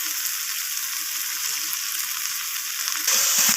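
Bhetki fish bones with green chilli and fresh coriander leaves sizzle steadily in a hot pan while being stirred, a dense continuous fry that swells louder near the end, with no one talking.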